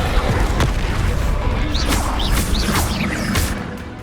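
A spell cast in the Hogwarts Legacy video game, a Descendo slam, lands as several booming crashes and whooshing impacts in quick succession, loud and close amid continuous game noise.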